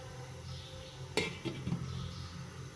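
A metal lid is set onto a cooking pot of potato, carrot and pea curry, giving a sharp clink followed by a softer second knock and faint rattle, close by in a quiet kitchen.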